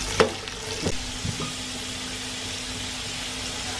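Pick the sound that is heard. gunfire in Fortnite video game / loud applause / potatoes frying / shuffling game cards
potatoes frying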